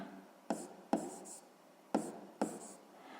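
Chalk or marker writing on a board during a sixth-grade math exercise: four short, sharp strokes in a loose rhythm, each a crisp tap trailing into a brief scratch, close and fairly quiet.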